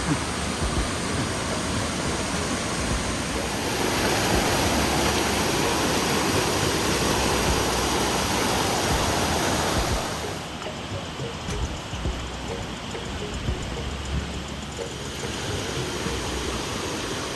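A waterfall and rushing stream at a mountain water crossing on Mount Igcoron roar as a steady, dense wash of water, loud and continuous with a slight shift partway through.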